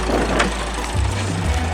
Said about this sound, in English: And the engine is running.